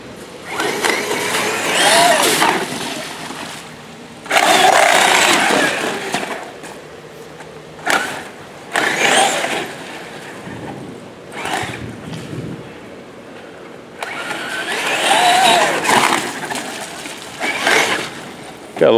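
Loose, stripped-screw front differential cover on an RC truck driving through mud, giving off bursts of rattling, sloshing mechanical noise that come and go, some of them loud and close.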